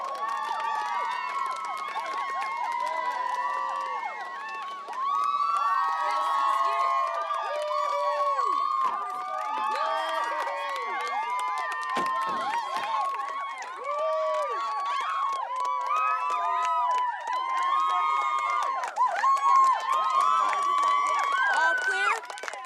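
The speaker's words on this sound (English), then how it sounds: "The crowd is going nuts." A large excited crowd cheers and screams continuously as a chancellor arrives, many high voices whooping and shouting over one another in a dense, sustained roar at moderate distance.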